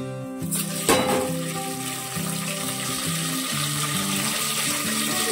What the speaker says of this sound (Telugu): ఇప్పుడు తాలింపు అయితే వేసేస్తాను